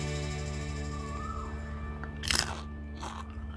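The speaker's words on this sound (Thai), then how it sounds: "เดี๋ยวเราจะกินพริกก่อนดีกว่า" A crisp bite and crunch into crispy baked chili, two short sharp bursts close to the mic over a steady background hum, with no talking.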